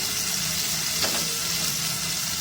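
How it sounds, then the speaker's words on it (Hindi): Masala of red chillies and salt fries in a pan for dal mash, giving a steady, dense sizzle with a brief stirring scrape midway, close and alone without talk. "ये मसाला खूब अच्छे से भून रहा है"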